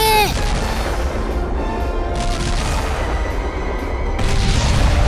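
Naval gun barrage in an animated battle scene about the aircraft carrier Ryūjō attacking an enemy transport convoy, a continuous loud roar of booming gunfire that swells again near the end, with no talk over it.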